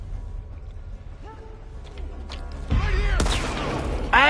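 Gunfire erupts in The Last of Us Part II, a few sharp, loud bursts and booms near the end, mixed with creaking and other in-game effects.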